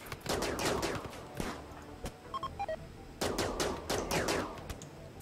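Rapid bursts of automatic gunfire from a RimWorld battle crackle in close, dense volleys, break off into a brief lull with a few beeping tones, then resume in another heavy burst; no voices.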